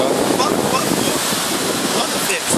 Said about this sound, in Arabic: هاي احنا هاي بحر يافا.